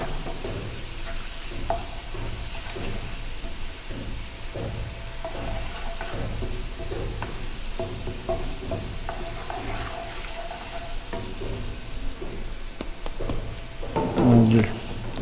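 Tadka of hot spiced oil poured into masoor dal, a continuous crackling sizzle with stirring and clinking of utensils against the pot, steady throughout with a brief louder burst near the end and no talking.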